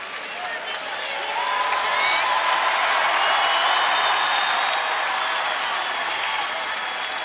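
Indiana home crowd at an NCAA men's basketball game applauding an injured player, a broad, sustained wash of clapping and cheering that swells, holds steady, then eases slightly, with a commentator's voice faintly underneath.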